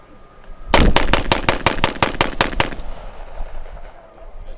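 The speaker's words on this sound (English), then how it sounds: "So we're going to go ahead and demonstrate the fire capability of the BAR." A BAR automatic rifle fires a fast burst of about ten loud, evenly spaced 30-06 shots at close range, and the reports echo and fade outdoors afterward.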